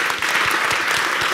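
Audience applause fills the room after a panel discussion on digital welfare, a dense, steady clapping throughout at close range with no talk over it.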